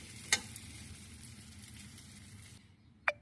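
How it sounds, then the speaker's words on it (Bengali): Dried shark fish fries on the stove with a soft, steady sizzle that cuts off near the end, punctuated by a couple of sharp clinks from a utensil. "10 থেকে 15 মিনিট চুলায় রান্না করার পর আমার হাঙর মাছের শুটকি ভাজা হয়ে গেছে"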